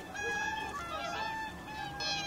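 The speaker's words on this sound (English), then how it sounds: "The biggest noise comes from the hooper swans. Compared to the well-known mute swans, these can be extremely noisy." Whooper swans calling noisily on open water where wintering birds gather to feed, a loud chorus of overlapping honking, trumpeting calls running continuously.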